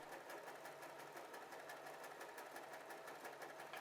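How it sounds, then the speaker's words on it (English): A W6 sewing machine, model N 1235/61, stitches a blue fabric appliqué with a steady, rapid needle clatter. The mechanical rhythm runs continuously and evenly at moderate volume, with no talking. "Just so to the right of the applique fabric, the needle will also move over to the left and stitch it."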